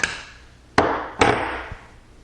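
A Mossberg 500 pump shotgun is being taken apart as its bolt slide is removed, giving a couple of sharp, close metallic clacks with a faint knock after them and no talking.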